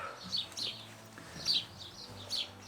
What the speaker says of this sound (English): Can you hear those birds? Bloody birds. Oh, there's wood pigeons.